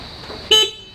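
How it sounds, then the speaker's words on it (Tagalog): An electric bike's horn gives one short, loud toot, clear and close over quiet background noise. "Op, busina."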